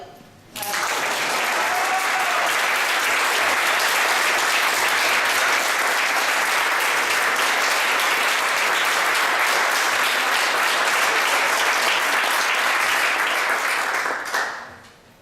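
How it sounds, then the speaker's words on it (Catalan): A crowd at the Premis Ictineu 2009 awards ceremony bursts into loud, sustained applause that continues steadily for over ten seconds before stopping abruptly. "jo volia fer un aplaudiment per l'Eloi"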